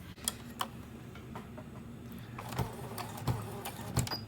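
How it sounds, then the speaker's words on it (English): A sewing machine stitches a rectangle with a crisscross through heavy layered material holding a D-ring, giving a steady low motor hum with a rapid ticking needle rhythm and a few sharper clacks. No one speaks. "now I'm going to sew down and I'm going to sew a rectangle and crisscross it in the middle"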